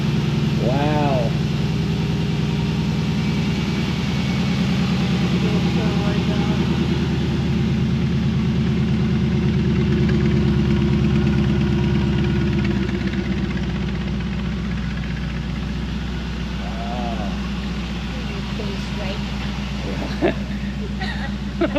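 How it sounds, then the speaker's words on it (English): A hot rod car engine idles steadily and loud up close, a deep continuous rumble with slight lumpiness throughout, while people talk briefly over it at a few points. "This is the first time I've heard the car run."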